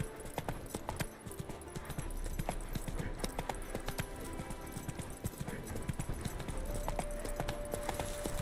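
Hooves of the horse Roach clip-clopping in The Witcher video game, a continuous brisk rhythm of close hoofbeats over game ambience with faint tonal cues.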